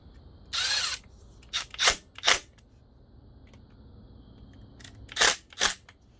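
Small screws being walked in by hand on the ignition points and condenser of a 1974 Kawasaki KE10 motorcycle, heard as a few short bursts of ratcheting and clicking with quiet gaps between them.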